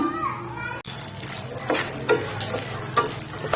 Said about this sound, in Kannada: ಅದೇ ಪೆನ್ಗೆ ಈಗ ನೋಡ್ರಿ ಬಾದಾಮಿನ ಹಾಕೊಂಡು ಫ್ರೈ ಮಾಡ್ಕೊಳ್ಳೋಣ